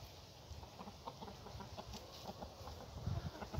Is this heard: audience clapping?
no